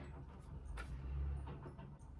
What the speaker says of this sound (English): Everyone loves a loud car out in my street.